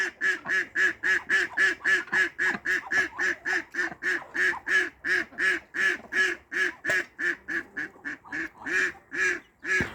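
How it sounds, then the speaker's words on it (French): A mallard duck quacks loudly and steadily in a long rapid series of harsh, evenly spaced calls, close by, with no other sounds intruding. "chez les canards, il y a des nouveaux arrivants. Il y a un trio de cols verts"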